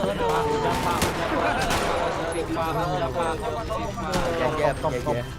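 Gunfire crackles in a GTA V roleplay game session, bursts of shots popping under steady excited talking, mostly near and repeated through the stretch.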